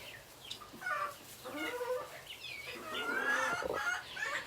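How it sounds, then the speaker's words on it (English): Peking chickens, a feather-footed breed, cluck and chatter on a farm, with several soft overlapping calls and a few higher squawks close by over low background noise. "these are Peking chickens"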